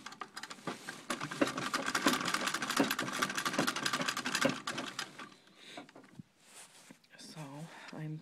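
Sewing machine stitching quilt fabric, its feed failing to pull the cloth through; a fast, steady rattling chatter fills the first five seconds, then stops, with talking and brief handling noises after.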